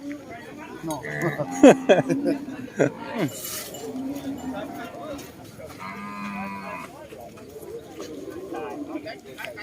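Water buffalo at a busy livestock market in Thailand give several loud, low lowing calls in the first few seconds, then the market's crowd noise and chatter continue underneath, with people talking throughout.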